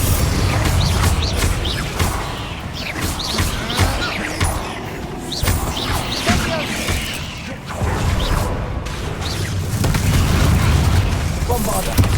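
Bombarda blasting spell in the video game Hogwarts Legacy: repeated booming explosions and crashing bursts amid busy combat effects and spoken spell shouts, loud and continuous across the scene.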